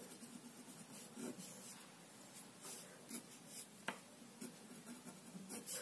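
A pen or pencil scratching across paper while a transformer circuit diagram is drawn by hand, soft continuous rubbing broken by short quicker strokes, close and quiet, with no voice.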